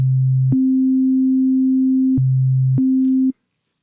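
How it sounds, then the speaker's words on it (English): A raw sine wave from Ableton's Operator synthesizer, a pure steady tone that steps between a low and a slightly higher pitch, holding each for a second or more with small clicks at the changes, then stopping abruptly. "So here's a raw sine wave in operator."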